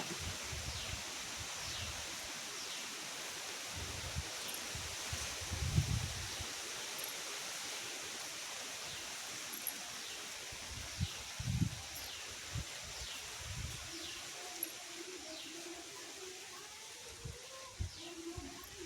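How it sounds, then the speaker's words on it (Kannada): Leaves rustle steadily in gusty wind, with occasional low thumps of wind hitting the microphone and faint birdsong in the background. "ಸಿಕ್ಕಾಪಟ್ಟೆ ಗಾಳಿ, ಮೋಡ."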